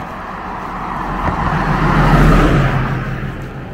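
A car drives past on a road near the Glama River in Måsådalen, Norway, its steady engine and tyre noise swelling as it draws close and then easing away, with no talk over it.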